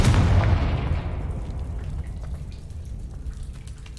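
A Confringo spell in Hogwarts Legacy bursts with a loud fiery boom at the start, then a long rumbling, crackling decay that fades over several seconds.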